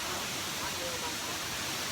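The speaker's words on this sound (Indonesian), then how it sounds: "Cuma di setiap perjalanan itu ada kayak air terjun yang kecil-kecil gitu, cakep banget." Small waterfall cascading beside a hiking trail in Laos, a steady broadband rush of falling water held at an even level throughout, close by, with no clear voices over it.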